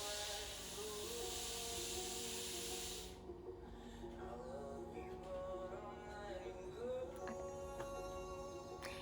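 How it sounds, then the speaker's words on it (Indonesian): A hair dryer blows with a loud, broad hiss that cuts off after about three seconds, leaving quieter background tones. "itu bukan suara masak ya teman-teman, itu juga bukan suara hujan, tapi itu suara hair dryer."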